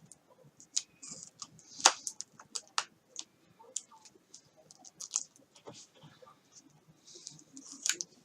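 Scissors snip away excess hinge tape on a foam RC flying wing, giving a quick series of small, crisp clicks and snips close by at an uneven pace.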